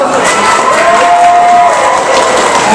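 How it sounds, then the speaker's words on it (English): An audience at a comic convention in Flint cheers loudly for a costumed contestant. Shouts and excited voices, including children's, blend into one sustained roar, with some clapping underneath. "Give a round of applause for Alec"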